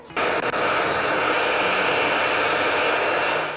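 A hair dryer switches on and blows with a loud, steady whooshing roar, close up and alone.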